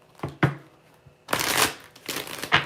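Tarot cards being shuffled by hand: a few quick riffling bursts, close and crisp, with short pauses between the fumbled shuffles.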